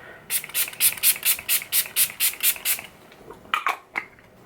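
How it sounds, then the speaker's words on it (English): Rapid bursts of a spray bottle misting primer water onto a face, about ten quick hissing pumps in a steady rhythm, then a few more spaced sprays after a short pause. "I'm just going to spray this all over my face"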